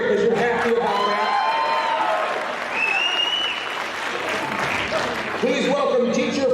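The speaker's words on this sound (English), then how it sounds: "This is where you cheer because you're happy about that" Audience at a school alumni banquet applauding steadily with scattered cheers and whoops, a dense, sustained wash of clapping filling the room from start to finish.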